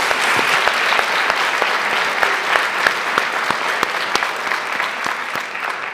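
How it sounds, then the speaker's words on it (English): An audience at a school board meeting gives a sustained round of applause for two elementary school students, dense clapping with sharper individual claps standing out, steady and fairly loud. "Give them one more round of applause."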